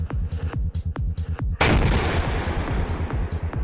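Heavy gunfire from a T-90MS main battle tank firing its enhanced 125mm gun, a series of loud, sharp booms in quick rhythm followed by a sustained roaring blast that fills the rest of the clip.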